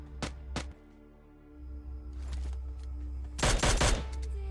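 Gunfire in the PUBG Lite battle royale game: two sharp shots at the start, a few scattered reports, then a loud, dense burst of rapid fire near the end over a steady low game hum.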